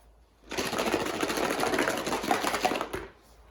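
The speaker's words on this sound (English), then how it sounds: "I want to show you guys my parts washer." A shop parts washer runs steadily for about two and a half seconds, a dense mechanical whir and rattle starting abruptly and cutting off, close by with no talk.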